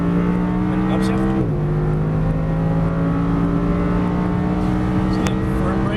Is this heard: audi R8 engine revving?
yes